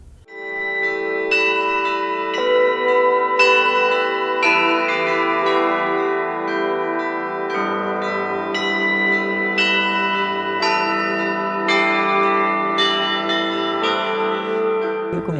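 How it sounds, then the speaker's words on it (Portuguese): Church bells in Mariana ring in a steady, overlapping peal of repeated strikes, clear and resonant, with no voices over them. "A linguagem dos sinos, seus significados e sua permanência nos ritos da igreja."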